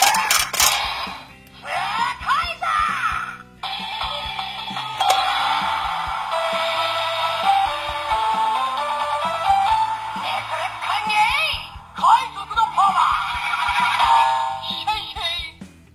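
A DX Avataro Gear toy from Avataro Sentai Donbrothers, a sixth-ranger Kukaiser gear, plays its special finisher sequence: a loud, busy electronic jingle layered with synthesized sound effects that runs continuously for about sixteen seconds, with a few short dips.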